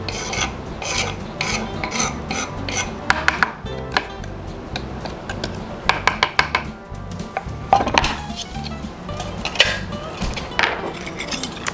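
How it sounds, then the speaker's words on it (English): Chopped jalapeños dropping and scraping into a plastic salsa container, a steady run of raspy rubs and light clatters with sharper bursts, close and alone with no talk. "I'm going to go ahead and put in the chopped up jalapenos."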